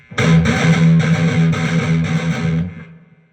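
Heavy distorted electric guitar plays a chugging gallop in heavy metal, one eighth note then two sixteenths, repeated in a tight, loud, driving pattern for about two and a half seconds before ringing out.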